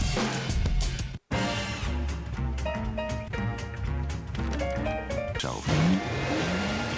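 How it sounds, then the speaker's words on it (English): A BMW 3 Series with an inline six-cylinder engine accelerates, its rising engine note sweeping upward near the end beneath loud music. "The 3 Series is here. With elegant styling and a powerful yet fuel-efficient inline 6-cylinder engine."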